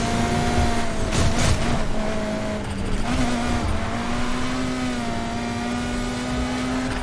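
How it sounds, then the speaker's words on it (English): Race car engine in the video game NFS Heat, played on a racing wheel, holding a steady loud high drone with a brief surge of noise from nitrous boost; engine pitch climbs and holds, no talk. "Hit the nitrous."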